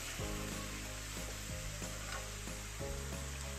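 Radish leaves roast and get stirred in a pan over a high gas flame for mooli patte ki sabzi, giving a steady loud sizzle with a few scraping stirs breaking through it.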